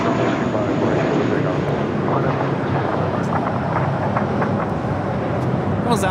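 JetBlue Flight 100 jet taking off from LAX bound for Fort Lauderdale: a steady, loud, broad engine roar holding constant throughout, with faint radio chatter beneath.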